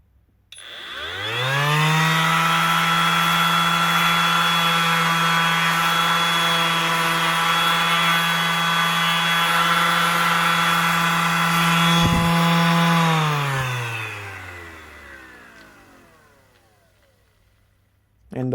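A Parkside Performance 12V cordless random orbital sander runs steadily at a loud, even motor whine, then winds down slowly as the base plate coasts to a stop.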